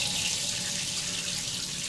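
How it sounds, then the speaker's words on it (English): Water rushes steadily from a small flush on an inexpensive Chinese smart bidet toilet, a close, continuous hiss of flowing and swirling water with no talk. "So here's a small flush."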